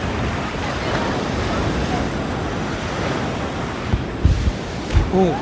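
Ocean waves crash and wash onto a beach at Visakhapatnam in a continuous rolling roar, with a few sharper thumps near the end.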